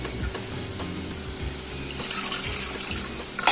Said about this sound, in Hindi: और इसमें पानी डालें 1 गिलास।